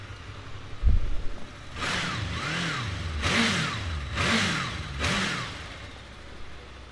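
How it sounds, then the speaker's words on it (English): A 2016 Honda VFR800 VTEC V4 motorcycle starts with a short crank, then settles into idle and is blipped through four quick throttle revs. Each rev swells and falls back, loud and close, with no talking. "We'll give it a start for you, that V4 engine."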